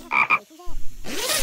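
Frog croaking in the rhythm game Headbangers: Rhythm Royale, two quick loud croaks followed by a short warbling call, then a burst of bright noise, all close and punchy.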